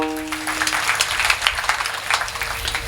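Audience members clap during a Marathi kirtan: a loose patter of claps, moderately loud over a low steady hum, opening with a brief held tone.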